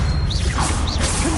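An Expelliarmus spell is cast in Hogwarts Legacy, a brief, bright magical whoosh with two quick swishing sweeps over a dense, loud bed of game sound.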